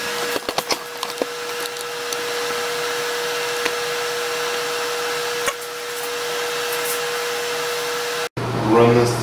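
Lathe boring bar cutting the bore of a tube, a steady whining machining hum with a constant tone and a few clicks, ending abruptly before a brief voice.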